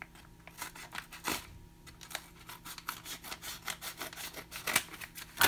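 Scissors cutting open mail at a desk, with faint rhythmic snips, crinkling paper and rustling of envelopes, quiet and close with no talk.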